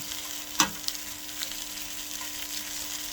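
Dried fish frying in a small amount of oil for a Filipino dish with alogbati and camote tops, making a constant gentle sizzle with one sharp pop near the start and a few softer crackles afterward.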